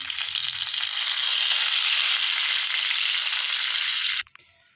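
Chana dal and asafoetida hit hot oil for a tempering, giving a loud, steady, close sizzle that runs unbroken for about four seconds before cutting off abruptly, leaving near silence.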